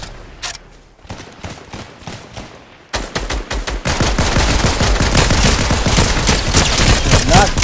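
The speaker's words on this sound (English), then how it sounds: "More shots." Gunshots in the video game Fortnite: a few scattered single cracks, then a dense sustained barrage of rapid-fire shots, loud and close.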